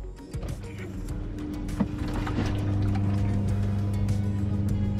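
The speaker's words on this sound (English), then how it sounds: "We're now turning the water pump on." An electric water pump in a new travel trailer runs with a steady motor hum and whine, starting a little into the clip and continuing at a constant level under faint background noise.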